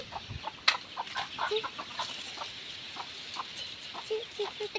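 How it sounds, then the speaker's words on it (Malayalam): Small chicks cluck and peep in short, scattered calls, fairly faint and close by, over a steady soft background hiss. "പിന്നെ ഇവിടെ കുറച്ച് കോഴിക്കുട്ടികളൊക്കെ ഉണ്ട്."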